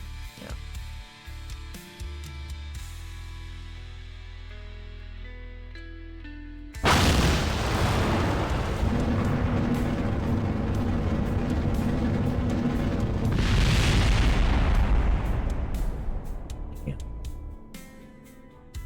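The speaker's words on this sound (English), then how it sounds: "Fuel tanks popped again, dudes." Rocket fuel tanks blowing up in Kerbal Space Program, a sudden loud roaring blast that rumbles on for several seconds, swells again, then fades out.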